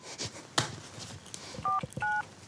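Touch-tone telephone keypad dialing a hotel reception desk: two clear beeping tones in quick succession, preceded by a few clicks and handling noises.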